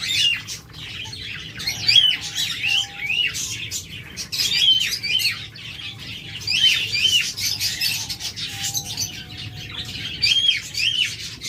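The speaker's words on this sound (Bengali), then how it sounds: "দেখুন সুইটাল ঘুঘু পাখিগুলো প্রত্যেকটা কতটা অ্যাক্টিভ" Caged doves and other pet birds, such as lovebirds and cockatiels, at a bird shop give a steady chorus of loud squawks, chirps and calls, with occasional wing flaps, all close and continuous.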